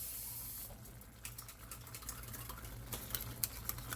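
Tap water gushes and splashes into an empty tomato paste can being rinsed out, a steady close pour with small irregular patters and clinks near the end.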